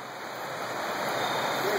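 The Linville River in a gorge rushes with a steady broadband wash of flowing water, close and continuous, with no speech over it.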